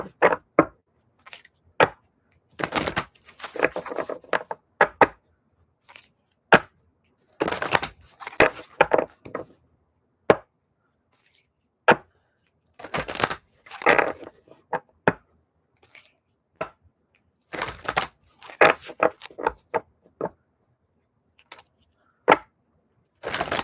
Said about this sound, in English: I want to get these cards shuffled while I'm at it.